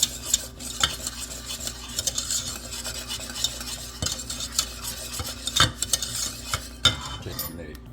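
A spoon stirs pound cake batter flavored with pecan praline, giving close, fairly quiet scraping and clinking against the bowl in uneven strokes with a few sharper knocks.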